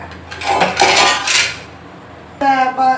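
Metal vessels clank and scrape as millet batter for paniyaram is scooped and shifted between them, a loud close clatter early on, a quiet gap, then a sharp ringing metal knock near the end.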